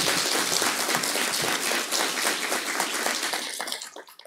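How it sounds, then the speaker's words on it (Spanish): A crowd at a civil merit award ceremony applauds loudly and steadily, dense clapping that holds strong before tapering off at the end. "fuerte el aplauso para Héctor"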